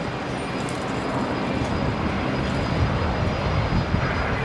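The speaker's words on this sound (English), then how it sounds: "aircraft coming in on 19 left, Qantas Link 1924 from Hobart" Qantas Link airliner arriving on runway 19 left at Brisbane Airport, a steady broadband jet roar held at even loudness with a faint rumble underneath and no voices.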